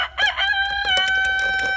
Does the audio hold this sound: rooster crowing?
yes